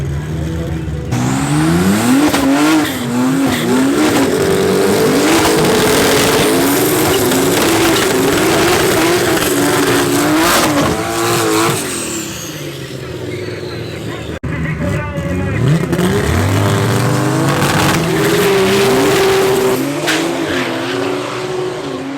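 A BMW G80 and a 2J BMW launch side by side at a drag strip, engines roaring loud as they rev through gear changes, fading and then returning under race commentary.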